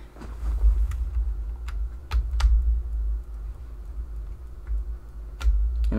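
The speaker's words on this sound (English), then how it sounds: "And I'm still hearing the clicking" Intermittent clicking from a faulty Acer Aspire F15 laptop with a suspected short under repair, sharp isolated ticks scattered over about six seconds above a steady low hum, close and fairly loud, with no talk.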